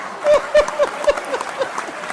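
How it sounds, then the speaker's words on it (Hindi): Brief, scattered clapping from a live audience at a Hindi poetry recital, a few loose claps over a low crowd murmur. "तालियां बढ़िया से आनी चाहिए"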